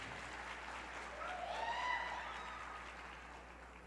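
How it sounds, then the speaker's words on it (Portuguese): Church audience applauding at a worship seminar, a steady wash of clapping that swells toward the middle and then fades, with faint voices or cheers mixed in. "Você pode aplaudir Jesus"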